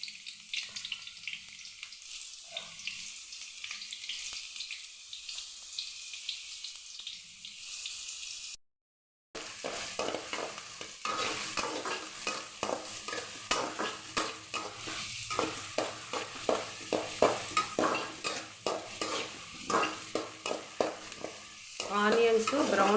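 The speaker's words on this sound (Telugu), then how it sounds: "ఆనియన్స్ బ్రౌన్ కలర్ వచ్చే వరకు ఆయిల్లోనే ఫ్రై చేసుకోవాలి." Onions frying in oil for mutton keema, a steady close sizzle broken by frequent rhythmic scraping stirs, with one brief silent gap partway through.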